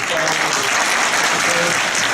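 Audience at a citizenship ceremony breaking into dense, steady applause, with a few voices faintly audible beneath the clapping.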